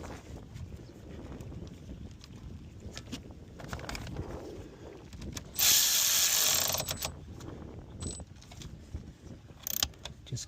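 A ratchet tightens the 12V battery terminal on a 2021 Tesla Model 3, giving bursts of close, quick metallic clicking with a louder, brighter rasping stretch midway and a short sharp burst near the end.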